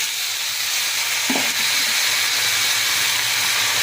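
Coconut and dried red chillies sautéing in a pan for an instant herbal thuvaiyal chutney give a steady, close hiss of frying from start to finish, with a brief soft clink partway through.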